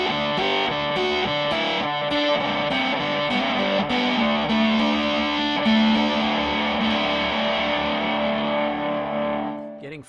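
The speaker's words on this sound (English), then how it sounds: "I'm going to go to the neck pickup now just to fill things out just a little bit," Electric guitar on the neck pickup played through a Catalinbread Merkin fuzz pedal, sustained thick fuzzy chords ringing continuously at steady loudness, fading slightly at the end.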